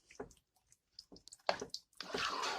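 Canned jalapeños and their juice are poured into a pan of chili, making soft, irregular drips and wet splashes that build into a brief steady pour, heard close up and quiet.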